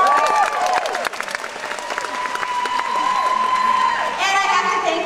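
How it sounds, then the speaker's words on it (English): Auditorium audience at a Mary Kay career conference in Pasadena applauding steadily and loudly throughout, with cheers and whoops rising over the dense clapping and an amplified voice faintly threaded through. "Take a round of applause."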